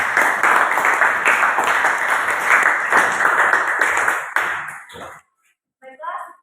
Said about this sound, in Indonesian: Tepuk tangan untuk Widya.